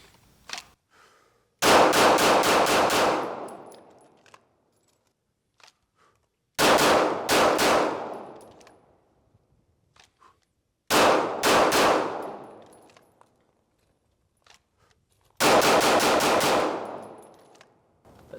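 A SIG Sauer P320 XFive pistol fires at a shooting range in four rapid strings of several loud shots each, each burst ringing out with short gaps of quiet between strings.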